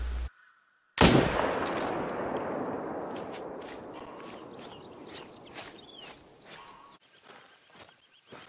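A single loud rifle shot from a whitetail hunting video game, a sharp close crack after near silence that rings out into a long decaying echo, followed by faint footsteps and light clicks.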